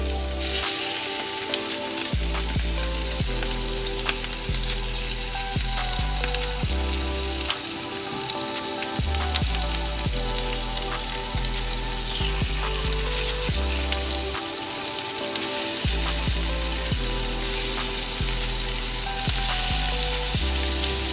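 Shrimp fry in a hot cast iron pan with a dense, continuous sizzle, loud and close, holding steady for about twenty seconds with a few faint scrapes and clicks mixed in.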